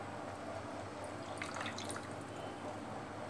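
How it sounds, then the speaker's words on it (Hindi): Water drips and trickles as soaked dahi bara dumplings are gently squeezed by hand in a home kitchen, a soft continuous wet patter with faint splashes, close and quiet. "इसको पानी से निकाल कर इस तरह से इसमें निचोड़ के हल्के हाथ से कि इसके अंदर से जो पानी है वो निकल जाए"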